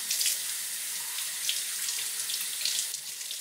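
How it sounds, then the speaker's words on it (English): Tap water runs steadily as philodendron plant roots are rinsed under the faucet, a close, continuous splashing hiss with small fluctuations and no talk. "Let's get it rinsed off."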